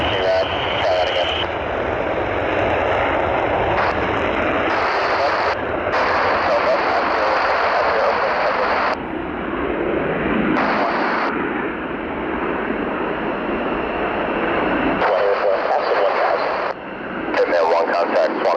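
A jet aircraft engine in a flight video game hums as a steady loud roar throughout, with radio chatter and a voice speaking over it.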